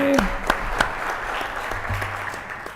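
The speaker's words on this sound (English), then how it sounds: "let's give Mr. Montori a nice round of applause" Applause at a school board meeting for a departed colleague, a moderate room of clapping hands with a few distinct louder claps early on, steady and unbroken to the end, with a faint voice at the start.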